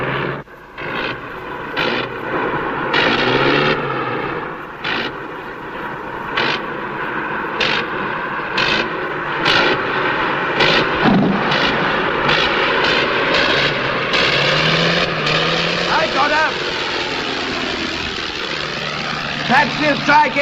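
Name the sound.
propeller aeroplane engine during flight and landing attempt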